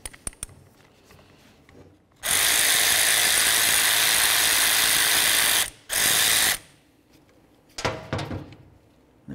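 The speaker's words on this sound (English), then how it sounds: "Let's remove that center bolt." A power tool spinning out the center bolt of a 2004-07 Ford F150 wiper transmission, with a loud continuous whir of about three seconds, a short pause, then another second-long burst, followed by light metallic clicks.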